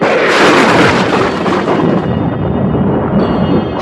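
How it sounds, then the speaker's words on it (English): A loud, sustained crash of thunder rolls and rumbles, fading slightly toward the end. "Thunder crashed outside the house"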